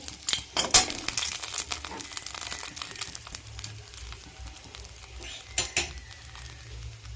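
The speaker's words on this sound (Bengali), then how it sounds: "ফোড়নটা ভালো করে ভেজে নেব" Whole spices for a tempering, intended for okra in yogurt, being fried in a pan, heard as a steady crackle with repeated metal clinks and scrapes of utensils, close up and moderately loud.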